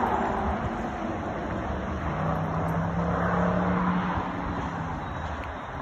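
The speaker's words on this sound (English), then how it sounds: "cars on the 163 going south" Cars travelling south on Highway 163 in San Diego on a quiet Sunday, a continuous wash of tyre and engine noise at moderate distance, with one car passing slightly closer midway.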